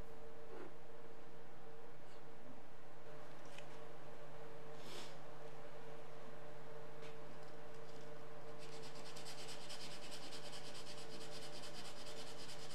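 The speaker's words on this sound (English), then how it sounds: "I'll have to sand some of the finish for the glue to stick." Steady rubbing scrape of sandpaper taking the finish off pre-finished wood pieces for a home bar wine and beer glass cabinet, close and continuous over a constant background hum, growing brighter and more rasping toward the end.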